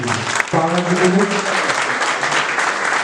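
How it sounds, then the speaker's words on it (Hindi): Audience applause at a Hindi stage play performance of the Uttarakhand Mahaparishad theatre troupe, a dense, steady clapping that fills the hall throughout, with a voice speaking briefly over it near the start. "एक बार जोरदार तालियां रोजी मिश्रा की।"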